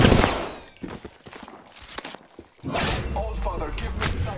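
Gunfire in the battle royale shooter Apex Legends: a series of sharp, close shots and thuds, some rapid and clustered, punctuated by brief gaps, with a louder sustained burst of action in the second half.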